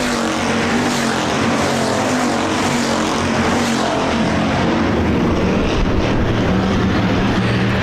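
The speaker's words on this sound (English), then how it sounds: "Andy Hoffman trying to reel him in for that top spot" Hobby stock race cars roar around the dirt oval at Park Jefferson Speedway, a steady loud engine drone with shifting pitch as the pack passes, continuous and close with no pauses.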